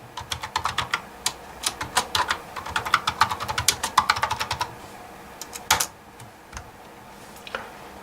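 Someone types a search into a browser on an HP All-in-One 200 desktop computer keyboard, a steady run of crisp, close key clicks that thins out into a few scattered taps before stopping.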